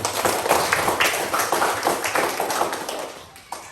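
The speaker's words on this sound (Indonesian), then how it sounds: "Mari kita berikan tepuk tangan." A small class of children claps together in a quick, uneven rhythm, close by and moderately loud, fading out after a few seconds.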